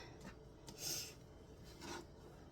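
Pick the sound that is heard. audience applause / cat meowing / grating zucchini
grating zucchini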